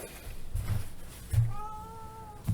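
Cat meowing, a couple of low murmurs followed by a longer drawn-out meow, fairly close but soft, with no talk.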